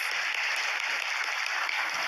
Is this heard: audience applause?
yes